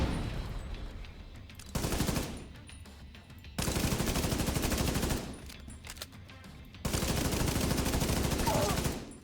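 Automatic gunfire in a video game comes in three sustained bursts of rapid shots, each lasting a second or more, separated by quieter gaps with faint background noise.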